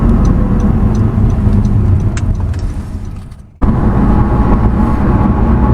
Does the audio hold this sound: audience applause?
no